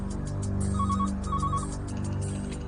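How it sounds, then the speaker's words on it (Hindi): A phone rings at home with two short electronic trilling bursts in quick succession, fairly faint beneath a steady background hum. "बेटा फोन उठा लो।"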